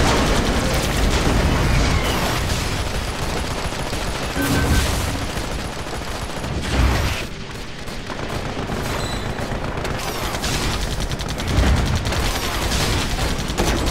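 Sniper gunfire in the mech game AirMech during a 2v2 player-versus-player duel: a dense, continuous battle din with repeated loud shots and booming impacts, packed together and steady throughout.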